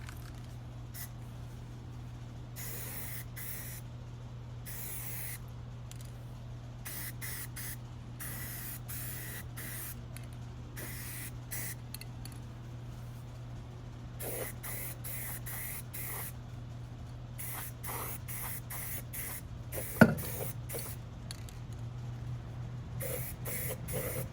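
First coat of spray paint going onto a Kawasaki KE175 motorcycle airbox and rear fender, repeated short aerosol bursts in an uneven rhythm, close and clear over a low background hum, with no speech.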